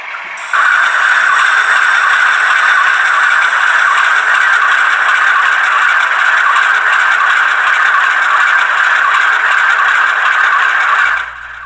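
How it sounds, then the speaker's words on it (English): A coreless motor in a Rapido MLW M420 model locomotive whirs and rattles steadily during a slow crawl test. The sound is close and continuous for about eleven seconds, then cuts off abruptly. "the crawl test was performed much like all the rest of the tests that I performed on this locomotive"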